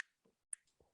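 Quick, crisp finger snaps and small wet mouth clicks from a single performer come one at a time, close and quiet, with short gaps of silence between them.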